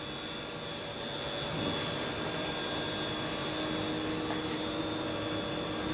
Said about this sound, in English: That's a Superflow dyno.